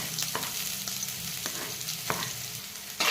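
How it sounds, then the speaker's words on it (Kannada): Onion, garlic and curry leaves fry in hot oil with mustard seeds, giving a steady close sizzle broken by a few quick stirring clicks and scrapes, with no one talking. "ಈರುಳ್ಳಿ ಬೆಳ್ಳುಳ್ಳಿ ಕೆರೆಬೇವು ಸೊಪ್ಪು ಹಾಕಿ ಚೆನ್ನಾಗಿ ಫ್ರೈ ಮಾಡಿಕೊಳ್ಳಿ"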